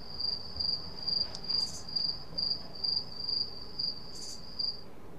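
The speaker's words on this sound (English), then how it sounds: "I'm gonna take all the audio out of this so we can hear our crickets." A crickets-chirping sound effect from an Apple loop, with rhythmic high-pitched trills repeating about every third of a second, fairly faint and steady, alone with no talk.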